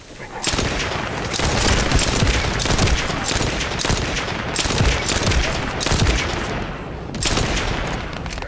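Heavy crossfire rages in The First Descendant, a loud, continuous barrage of overlapping gunshots and bursts with periodic booming impacts.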